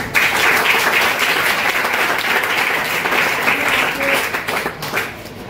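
An indoor audience at a school sports and fitness guidance event applauds steadily, a dense wash of clapping hands that holds for several seconds and then starts to thin out.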